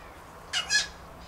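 A bird gives two quick harsh squawks close by, loud and bright against a quiet room.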